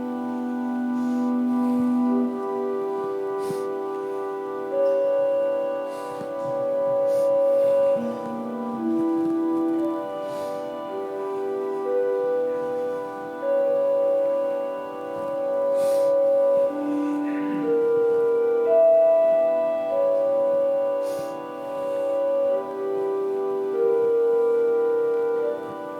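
A pipe organ plays a slow, sustained, mysterious passage with long held notes and a steady low pedal bass line underneath, no voices.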